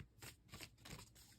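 Tarot cards are shuffled quietly and close up in several quick riffling bursts, with soft papery slaps between them.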